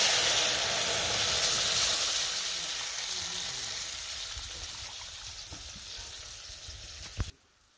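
Pieces of hilsa fish fry in hot oil with mustard paste, a loud steady sizzle close up that slowly fades, ending with a sharp clink before cutting off.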